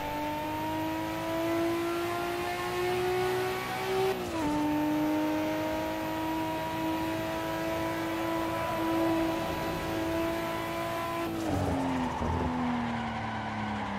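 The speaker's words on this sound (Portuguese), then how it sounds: "Esse ronco desse carro, cara, é o melhor." Nissan Skyline R34 engine roaring in the racing game Assetto Corsa, a loud sustained high rev that climbs, drops sharply at a gear change, climbs again and then falls away with a tire squeal near the end.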